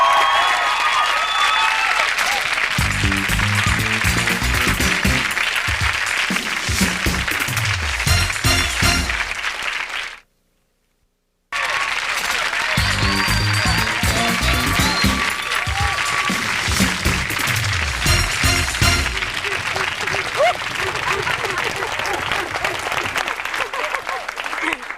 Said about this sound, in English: Don't move. Just applaud them.